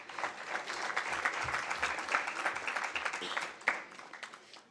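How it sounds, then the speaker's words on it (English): Applause from the audience at an Oliver Reginald Tambo memorial lecture, a sustained crackle of many hands clapping that swells and then gradually thins out, with faint voices underneath. "Another round of applause, please."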